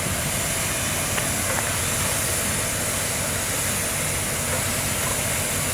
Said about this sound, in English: it sounds like the locomotive is preparing to move.